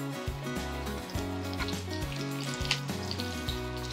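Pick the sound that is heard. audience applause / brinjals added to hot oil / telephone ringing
brinjals added to hot oil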